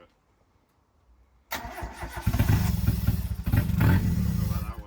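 A CA18DET engine fitted in a JDM Mazda Miata cranks after a quiet moment, catches and runs loud and rough up close, with a brief voice at the start.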